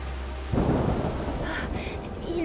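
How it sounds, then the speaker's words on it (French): Heavy rain falls in the video game A Plague Tale: Requiem, a steady, dense hiss of downpour with a deep rumbling swell partway through, heard without any talking. "Il pleut de plus en plus fort."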